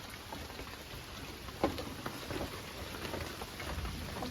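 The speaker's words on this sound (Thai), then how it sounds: "ตอนฝนตกนี้ผมบอกเลยลำบากมาก" Heavy rain pours steadily outdoors in a downpour, a dense continuous hiss with one brief louder splash or knock, no voices heard.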